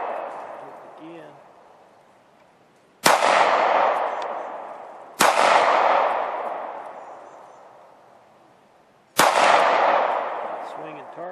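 Three sharp gunshot cracks ring out at uneven intervals, each followed by a long, ringing metallic decay from a swinging Shoot N Spin steel target outdoors.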